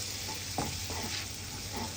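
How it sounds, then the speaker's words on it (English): Food fries in a pan with a soft, steady sizzle, broken by a few light clatters of stirring, fairly quiet and with no voices. "So that's been frying for a few more minutes."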